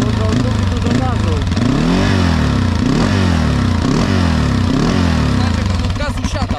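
A quad bike's small engine revs up and down in repeated surges that keep faltering and dropping out, loud and close, with someone talking over it.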